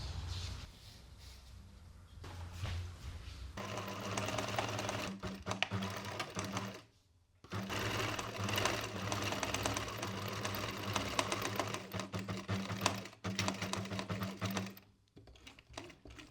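A sewing machine stitches a seam on a summer linen dress in steady rapid bursts, with a brief stop near seven seconds and a quieter pause near fifteen, close and clear with no talking.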